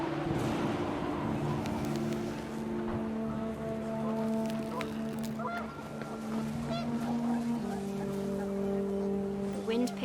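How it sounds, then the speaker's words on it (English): Geese honk in a panicked flock over steady wind noise during a family photo scene outdoors in What Remains of Edith Finch, with a layer of sustained tonal hum and scattered calls running throughout. "The wind picked up, and panicked geese appeared and quickly went."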